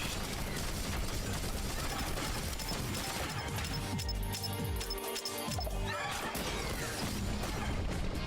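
Fireworks burst in the video game Risk of Rain Returns, a dense, loud barrage of crackling explosions and crashes layered over busy game sounds and music.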